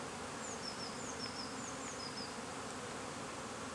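A soft, steady hum of many honey bees buzzing in an apiary fills the air, with a few higher chirps above it, fairly faint and continuous.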